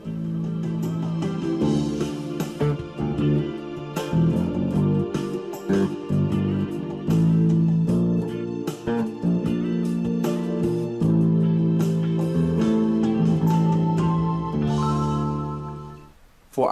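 A bass line variation of a song is played on bass guitar over a full backing track. The sound is dense and continuous, with busy low notes under the band, loud throughout until it cuts off at the end.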